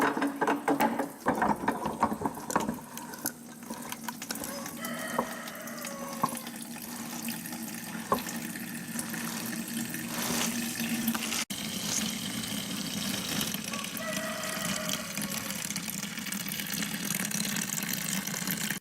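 Freshly pressed grape juice pours through two filters into a bucket, a trickling, splashing stream with scattered clicks and knocks running on for many seconds at modest loudness.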